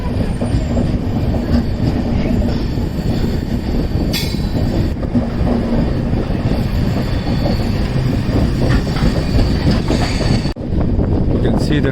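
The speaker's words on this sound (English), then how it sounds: "You can see the train entering the tunnel." A train on the Mumbai–Chennai railway line running into a tunnel, with a steady, loud rumble of wheels and carriages, faint squeals and clatter, and a brief drop as the sound shifts near the end.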